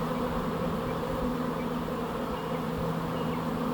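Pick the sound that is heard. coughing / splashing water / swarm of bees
swarm of bees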